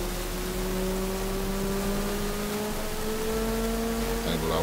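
A motorcycle in GTA 5, its engine already showing a lit check-engine light from motor damage, revs in a steady rising drone with climbing harmonic tones, loud and continuous throughout.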